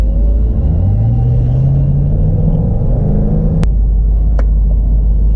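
A 2014 Jeep SRT8 with a built motor and 82mm turbo roars loudly up close while racing, its deep engine note climbing steadily in pitch through acceleration, then a sharp knock and a shift to a lower, rumbling drone.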